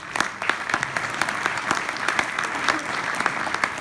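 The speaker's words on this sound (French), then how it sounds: "et ça s'applaudit." Audience applause at La Mayenne Innove 2019, a steady wash of many hands clapping that holds at an even level throughout, fairly close and dense, with no speech over it.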